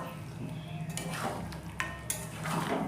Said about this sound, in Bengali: সমস্ত মাংসটাকে আর কি ভালো করে নাড়াচাড়া দেব।